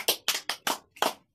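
A group of children clap for themselves at a village class, several bursts of loud close claps in an uneven rhythm, with no talking.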